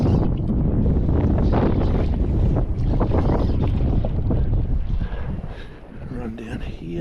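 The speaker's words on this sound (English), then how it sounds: "how bad this wind is going to be" Strong wind buffets a fishing boat out on the water while barramundi fishing, roaring in loud gusts against the microphone with choppy water noise beneath and muffled talk.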